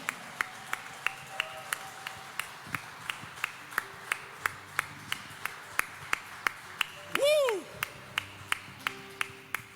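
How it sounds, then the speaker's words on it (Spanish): Church congregation clapping in a slow, regular rhythmic beat, one sharp clap roughly every third of a second, with a brief swelling sound near the end. "Dele un aplauso al Señor"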